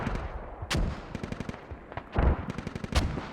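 Rapid bursts of automatic gunfire mixed with heavier thumping blasts from mortars in the tactical shooter game Squad, crackling in uneven rhythm with a few louder booming hits, no voices.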